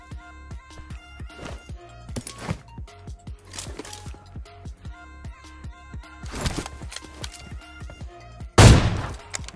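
Gunfire in the video game PUBG: rapid repeated shots in a steady rhythm, some bursts louder than others, with a sharp loud blast near the end and no talking.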